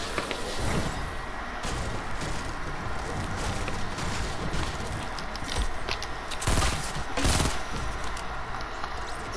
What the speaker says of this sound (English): like machine gun.